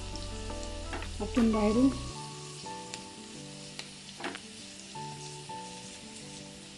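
Fish roe (gaboli) from a scaly fish frying in a generous amount of hot oil, a steady crackling sizzle with a brief louder burst early on, and a voice speaking briefly over it.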